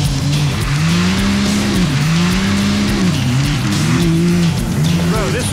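A Can-Am X3 side-by-side engine roars loud and close, its pitch rising and falling steadily as the machine slides sideways under the handbrake, with a brief tire scrub near the end.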